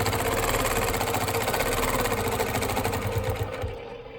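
A longarm quilting machine runs steadily, stitching continuous diagonal crosshatching with a ruler, as a dense, fast mechanical whir that stays even, then eases off near the end.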